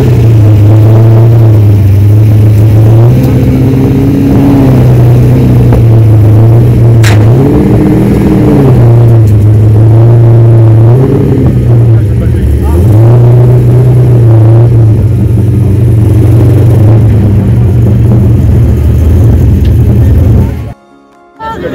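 A drift car's engine revs hard on a run at the 2022 French drift championship. The close, loud roar rises and falls in pitch through repeated throttle swells for about twenty seconds, then cuts off abruptly.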